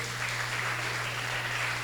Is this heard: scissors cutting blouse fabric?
no